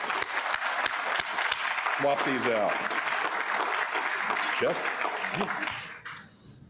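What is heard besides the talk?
audience applause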